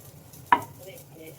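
Chopped onion pieces drop into a hot steel pan with one sharp clatter and sizzle, then fry with a faint low crackle, no talk.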